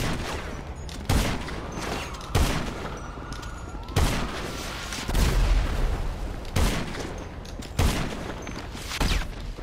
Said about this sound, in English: I hear the bullet whiz past me.